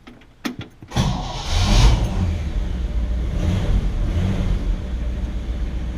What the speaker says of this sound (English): So let's get the old car going.